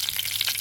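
Mustard seeds crackle and sizzle steadily in hot oil in a wok, a close, dense hiss with rapid popping and no voices.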